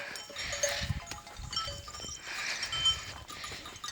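Sheep bleat faintly at a distance over a quiet outdoor background, with a few scattered calls.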